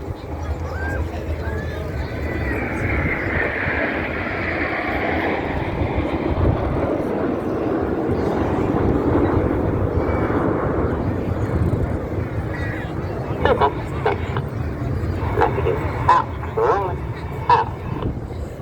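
RAF Red Arrows Hawk T2 jets fly an aerobatic display at the Rhyl Airshow, their steady distant roar rumbling beneath continuous announcer commentary.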